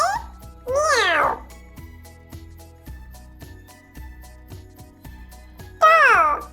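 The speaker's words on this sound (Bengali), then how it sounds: "ইয়, ইয়ে মিয়াও।" A cat gives two loud, drawn-out meows, one near the start and another near the end, with soft background music in between.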